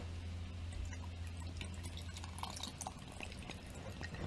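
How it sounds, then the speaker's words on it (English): Peach drink glugs and splashes as it pours from an opened can, a soft continuous liquid trickle heard close up over faint background hum. "That's pouring out quite nicely."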